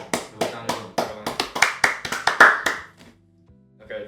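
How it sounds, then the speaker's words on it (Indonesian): A small group claps for a guest introduced on a casual Indonesian talk show, about a dozen distinct, fairly close claps in an uneven rhythm that stop abruptly, followed by a short quiet pause and a faint voice at the end. "Tepuk tangan."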